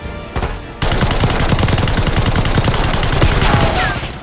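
Rapid automatic gunfire from the Black Ops 6 video game on Veteran difficulty, loud and sustained in dense bursts after a brief quieter lead-in, with faint voices underneath.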